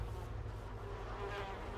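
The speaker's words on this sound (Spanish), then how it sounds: "Las moscas están aquí, chaval." Flies buzz steadily and close by in Ghostwire Tokyo, a soft, droning insect hum that continues without a break.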